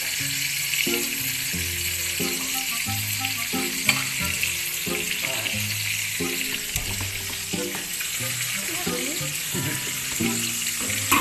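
Pork chops sizzle steadily in butter in a pan, with a continuous loud frying hiss and occasional stirring scrapes throughout.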